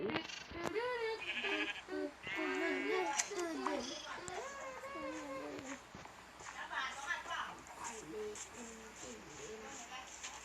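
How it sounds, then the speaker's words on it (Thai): Minecraft sheep bleat repeatedly during in-game shearing, wavering cries in short bursts mixed with children chattering and playing over them. "จะมาตัดขนแกะ"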